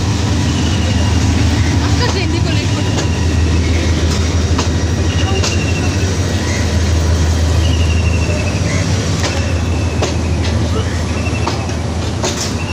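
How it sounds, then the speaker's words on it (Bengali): A large new train runs steadily along the track, a continuous loud rumble of wheels and carriages with occasional clicks and faint squeals, close by. "ধীরে ধীরে এগিয়ে ছুটে যাচ্ছে দেশে নতুন ট্রেন"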